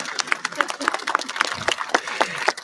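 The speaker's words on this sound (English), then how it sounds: "You can clap for him, it's all good" Audience applause at a 2025 Canyon Springs High School graduation ceremony in Moreno Valley, California, greeting the school district superintendent; scattered, moderate clapping from a crowd, with individual sharp claps standing out, steady and fairly close.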